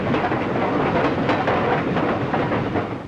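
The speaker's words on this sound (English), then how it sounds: "The Flying Mercury of the New York Central running from Cleveland to Detroit." The New York Central's Flying Mercury streamliner train runs by in a dense, steady roar of wheels and rushing noise, loud and continuous throughout.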